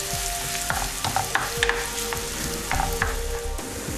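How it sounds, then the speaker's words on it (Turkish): Chopped onion sautéing in oil in a pan for bolognese sauce, a continuous close sizzle with repeated light scrapes and taps of a spoon stirring, fairly even in level and free of talk. "kıydığımız soğanı ekliyoruz. Şeffaflaşana kadar kavuruyoruz."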